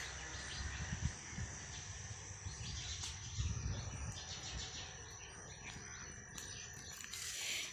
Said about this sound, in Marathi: पण पक्ष्यांचा आवाज